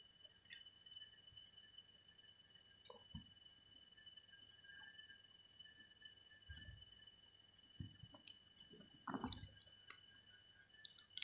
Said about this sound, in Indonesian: Ya, airnya sudah mulai keluar nih.